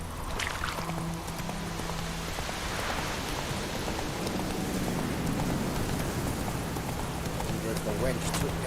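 Heavy pouring rain in The Witcher 3 makes a dense, constant hiss throughout, with faint clip-clop of horse hooves and low tones underneath.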